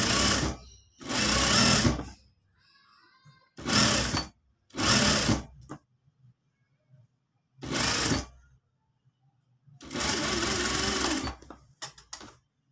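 A sewing machine stitches a simple shirt, running in five or six short bursts of one to two seconds each, separated by quiet pauses, close and clear with no voices.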